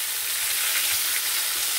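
Roe-filled fish fries in plenty of oil in a pan, giving a close, continuous sizzle that stays even and loud with no talking.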